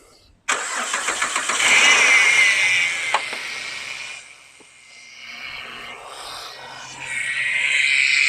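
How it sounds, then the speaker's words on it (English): A Ford FG Falcon XR6, a neglected project car, cranks briefly with rapid starter chugs, then fires and revs loudly, dips to a quieter idle and swells again, heard close up. "I've got to put the ignition on. That will then allow the car to start provided the ECU isn't fried."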